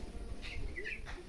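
Pigeons kept on a household rooftop give a few soft coos and chirps at moderate distance, against a low background murmur with no talking.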